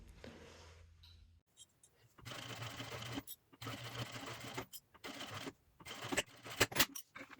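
A sewing machine stitches beside zipper teeth while a zippered wristlet phone wallet is sewn, running in several close bursts of whirring with short pauses and small clicks between them.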